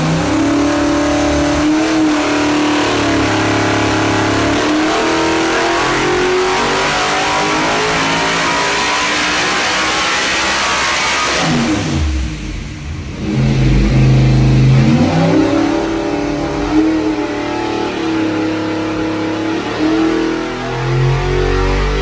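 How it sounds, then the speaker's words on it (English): Tuned car engine running naturally aspirated on a dyno, loud and close, revving hard with a steady roar that dips briefly mid-pull before climbing again, no talk over it. "Marcus's engine back to him in Texas, we put it on the dyno and ran it NA, and it's looking good"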